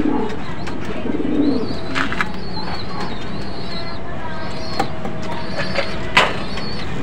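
Racing pigeons in a loft giving soft, repeated cooing calls at close range, with light rustling, occasional clicks and a person talking in the background.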